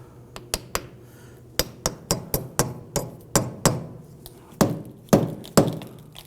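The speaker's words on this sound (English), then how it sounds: "you can use the ball peen side of your hammer and just kind of tap that out" Ball peen hammer tapping a metal wheel dust cap on a 2008-2011 Ford Focus: around fifteen sharp, ringing metallic taps in an irregular rhythm, close and fairly loud, with no talking.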